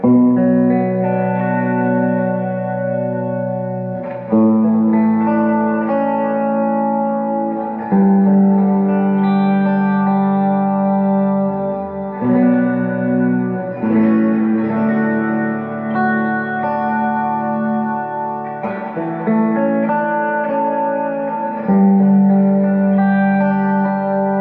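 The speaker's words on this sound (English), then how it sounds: "Crazy reverb with the delay." Electric guitar through a Matchless Spitfire clone amp with heavy reverb and delay, sustained chords and notes washing into long echoing tails, loud and close, with no talking.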